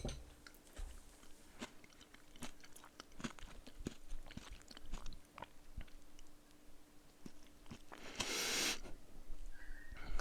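A person chews spicy kimchi close up, with soft, quiet crunches and bites repeating irregularly, then a brief louder rustle near the end.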